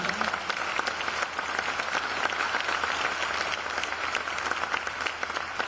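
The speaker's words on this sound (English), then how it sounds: "Let's give one big round of applause now for our vendors" A large audience applauds steadily at a city State of the City event, the dense clapping sustained and even throughout.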